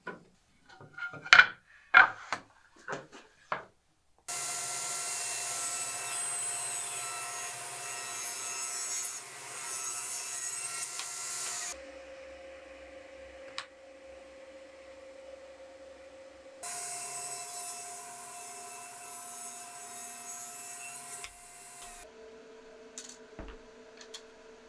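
A table saw rips quarter-inch strips from maple boards for an end grain cutting board, in two long, steady cutting passes over a motor hum, with light knocks and handling of wood before them.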